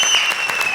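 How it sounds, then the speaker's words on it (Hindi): Dense applause from a comedy show studio audience, a loud even wash of clapping with a steady tone running through it. "इस बात पे दे ताली"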